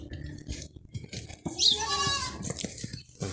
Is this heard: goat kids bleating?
yes